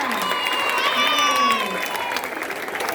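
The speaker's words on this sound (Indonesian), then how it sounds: "Sekali lagi tepuk tangan yang meriah." School assembly crowd clapping at a flag ceremony, a continuous wash of applause with faint voices and some whistle-like tones mixed in, tapering slightly toward the end.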